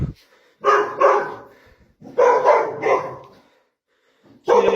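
Several dogs bark loudly and close by in a home living room at night with a TV on, in two clusters of rapid barks separated by a brief pause.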